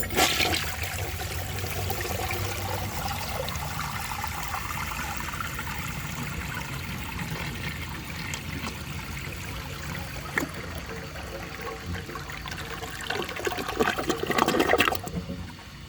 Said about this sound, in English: So I'm going to give that another flush.